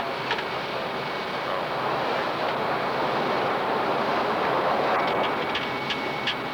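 A jet airliner's engines roar steadily through the cabin during approach with flaps and gear coming down, a dense continuous broadband rumble and hiss that swells slightly midway, with no speech over it.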